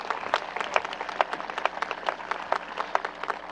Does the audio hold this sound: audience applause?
yes